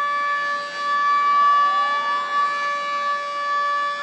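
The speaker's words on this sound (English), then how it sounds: "you can already hear the air siren" Steady wailing siren tones hold over the whole stretch, one pitch sliding upward briefly midway; an air raid siren sounding alone at moderate distance during a civil defence drill in India.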